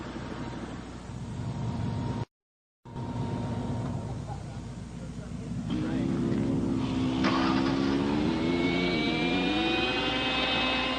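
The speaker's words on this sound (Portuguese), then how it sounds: "É a hora da última experiência com o helicóptero controlado por rádio sob essas condições." A radio-controlled helicopter flies in stormy wind near a tornado, its steady rotor whine rising and bending in pitch over a broad, loud rush of wind, with a brief dropout early on.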